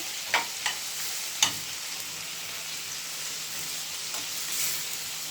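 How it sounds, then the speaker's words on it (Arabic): Sliced tomato rounds frying in a pan, a steady hiss of sizzling with a few sharp crackles and pops near the start, close and fairly quiet, with no talking. "هنزل عليه بالحبات الطماطم اللي انا عاملاهم شرايح برضو"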